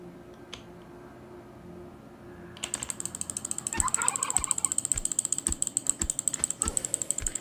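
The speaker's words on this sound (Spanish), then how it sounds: "Eso es un pavo." A turkey in the survival video game Last Day on Earth gobbles in fast, rattling repeated bursts that start abruptly after a quiet opening and keep going to the end over a faint low hum.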